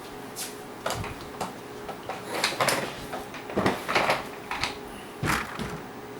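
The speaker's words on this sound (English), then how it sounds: "That was the keyboard rattling around." A loose laptop keyboard rattles around, making a series of irregular close clicks and clattering knocks spread over several seconds.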